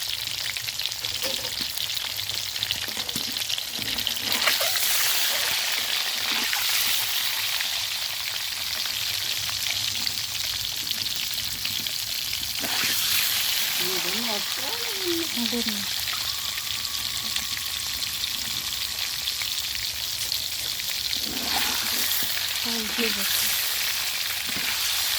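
Egg frying in hot oil with turmeric and salt, stirred in the pan: a steady close sizzle runs throughout, with occasional scraping stir strokes breaking through at intervals.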